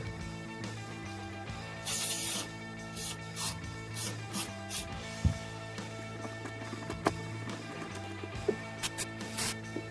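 Aerosol cleaner sprayed onto a disassembled Mariner marine outboard carburetor, heard up close as several short hissing bursts over a steady low mechanical hum.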